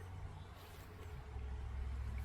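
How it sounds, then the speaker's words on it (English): Road traffic rumbles steadily in the background outdoors beside a bench of bonsai trees, a low continuous drone that swells slightly louder toward the end, with no voices. "Sorry about the traffic noise in the background."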